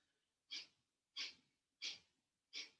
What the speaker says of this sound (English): we'll just do one more little Kapalabhati. It's just the exhale now.